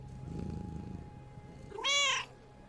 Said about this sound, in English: cat seems to be everywhere